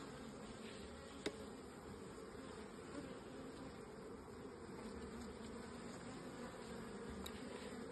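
Honey bees in the second brood box of a beehive hum in a dense, steady, fairly faint drone that continues unbroken, with one small click near the start and no voices.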